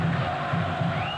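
Vasco fans celebrating a goal by Donizete at São Januário stadium in the 1998 Libertadores match against Cruzeiro, a steady distant crowd roar with rhythmic chanting pulses.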